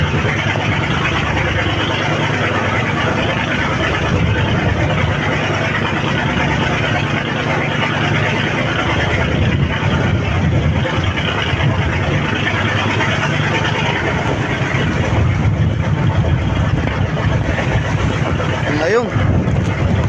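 Twin engines of a service boat run steadily at sea, a constant low drone with wind noise on the microphone and voices talking over it throughout.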